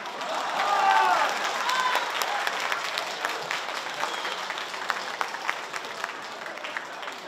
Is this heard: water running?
no